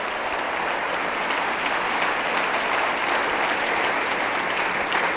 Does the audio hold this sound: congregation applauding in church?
yes